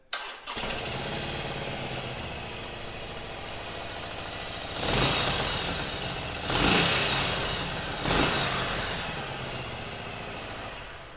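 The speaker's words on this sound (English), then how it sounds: "Give it a quick fire up for you." A 2017 Harley-Davidson 883 Iron Sportster, a standard keyless motorcycle, fires up with a sharp start, then settles into a loud, steady, close-up idle with three brief throttle blips that swell the engine's rumble.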